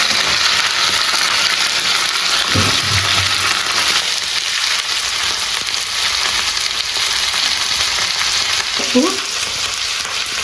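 Cauliflower frying in hot oil gives a continuous loud sizzle, with a couple of soft clunks from stirring partway through.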